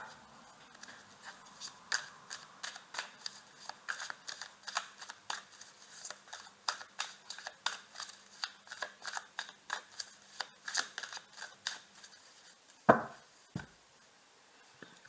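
Tarot cards being shuffled and drawn during a love reading, heard as a long run of close, crisp riffling clicks and flicks in quick irregular bursts, ending with a couple of louder thumps as cards are set down; no talking.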